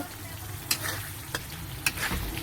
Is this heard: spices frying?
yes